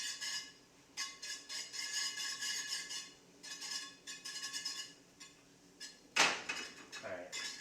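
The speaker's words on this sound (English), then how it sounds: "So while this is mixing and frying up," Food mixes and fries in a pan, with scattered clinks and scrapes of a utensil against cookware in short bursts, a louder clatter near the end, all fairly quiet with no talk.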